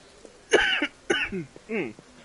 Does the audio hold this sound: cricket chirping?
no